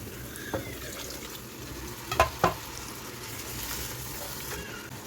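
Masala sautés in a pan with a low, steady sizzle, broken by a few sharp clinks and knocks from stirring and no speech.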